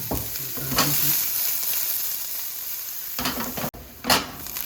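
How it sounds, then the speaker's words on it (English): Onions frying in a pan give a soft, steady sizzle with occasional bursts of stirring and scraping, close and moderately quiet, with no voices. "Onions first. Cook them until they start to show a little color."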